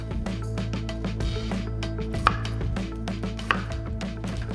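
A knife chops through Brussels sprouts on a cutting board in a kitchen, firm repeated cuts in a steady rhythm with a couple of sharper knocks, close and clear with no talk.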